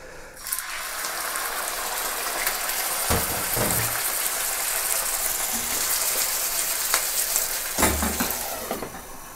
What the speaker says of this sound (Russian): Для начала мы пожарим нашу печень.